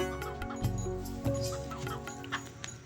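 A chicken clucks in repeated short bursts over a steady, tonal backdrop, fairly close and clear, with no speech.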